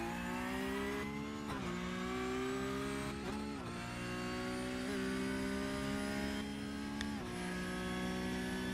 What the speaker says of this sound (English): Just listen to that beautiful engine noise for a second as well.